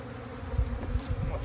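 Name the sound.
honeybees buzzing at an open hive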